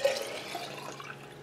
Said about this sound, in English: Let's just rinse the jar out.